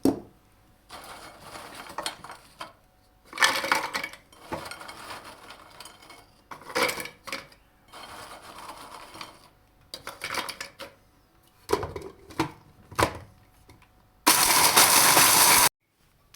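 A food processor grinding biscuits whirs in short, loud bursts with pauses between, ending in a longer sustained grinding run.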